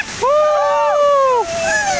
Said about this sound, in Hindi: ओ भाई पानी गिर रहा है यार